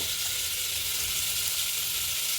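Chopped onion frying in oil in a pan, a steady, close hiss of sizzling with no pauses or talk.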